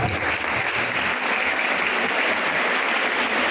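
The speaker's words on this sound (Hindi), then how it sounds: "जोरदार तालियां होनी चाहिए इस बात पे।" Steady audience applause fills the hall at a religious talk on Veer Bal Diwas, a dense, continuous clapping that holds at an even level throughout with no voices over it.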